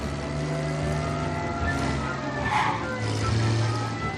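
Car engine droning and revving up in the video game Mafia, a steady mid-loud motor hum with rising harmonic tones, speed climbing toward the end, with faint voices underneath.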